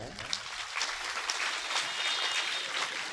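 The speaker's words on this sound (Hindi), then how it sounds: "एक बार ताली बजाएं।" Audience clapping hands at a live devotional religious gathering, a steady burst of applause lasting about three seconds, fairly close.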